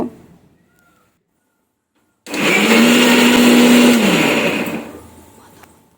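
An electric mixer grinder whirs loudly for about three seconds, grinding tomato, green chilli, ginger and onion into a paste, then winds down after a quiet start.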